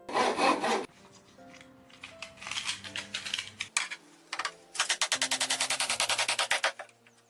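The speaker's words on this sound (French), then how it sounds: "Il utilise une scie sabre" A reciprocating saw buzzes through pallet wood in several bursts, ending with a long fast-pulsing cut; loud and close, no talking.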